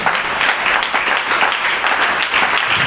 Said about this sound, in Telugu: అందరు చప్పట్లు కొట్టుకోండి ఒకసారి.